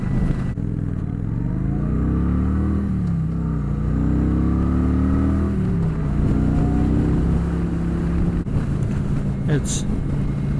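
Kawasaki Vulcan Custom 900 cruiser motorcycle being ridden, a steady loud engine drone with rising and falling pitch as it gears through, heard close up under continuous wind rush throughout.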